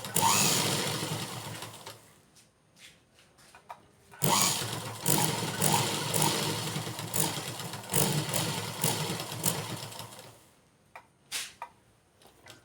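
A sewing machine stitches along the folded edge of old cloth for a pot holder, whirring in close bursts: a short run, a pause, a long steady run, then a brief final burst.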